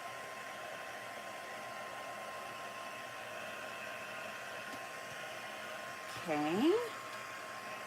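A hair dryer blows steadily over handmade paper cards, a constant close whooshing hum, and near the end a voice speaks briefly over it.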